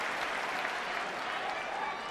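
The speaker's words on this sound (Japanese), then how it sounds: "大きな拍手が送られています。" A wrestling crowd applauds during a long pro-wrestling title match, a dense, even wash of clapping and crowd noise that holds steady throughout.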